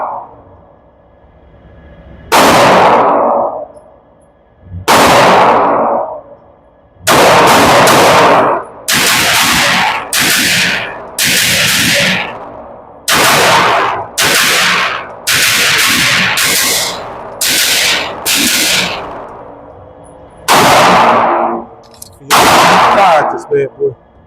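Pistol double-tap gunshots on an outdoor shooting range, loud sharp cracks in rapid pairs and short strings, a dozen or more shots with brief pauses between them.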